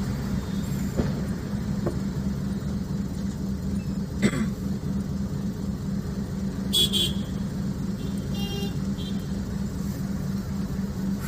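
Car engine idling and pulling away in first gear during a driving lesson, a low steady hum inside the cabin with a few clicks and a short horn-like tone, while people talk over it.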